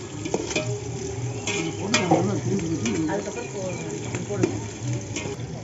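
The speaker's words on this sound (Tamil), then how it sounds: "பெரிய வெங்காயம் போட்டு கொஞ்சம் நேரம் வணக்கணும்." Sliced large onions sizzle in a pan while being stirred for a homemade mutton biryani, a steady close frying hiss broken by scrapes of a utensil against the metal.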